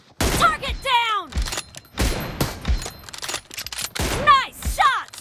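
Gunshots in a sniper video game: a few sharp, loud single reports separated by pauses, each with a quick ringing tail, among game sound effects.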